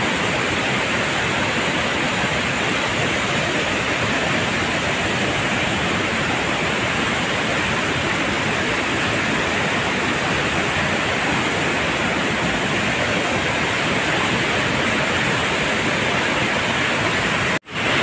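Rushing floodwater surging downhill toward Marikina, a loud, unbroken roar of turbulent water running close by the whole time, with no voices over it and a brief knock at the very end.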